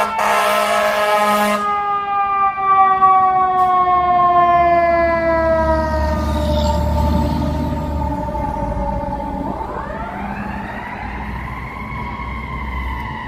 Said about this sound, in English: here comes the fire truck